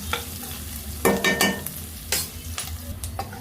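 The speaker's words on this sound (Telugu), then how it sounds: "వేగిన తర్వాత అప్పుడు మనం గోరుచిక్కులు వేసుకుందాం." Cluster beans frying and being stirred in a pan for a village-style coconut fry, with a steady close sizzle and scraping stir strokes that swell into louder bursts every second or so.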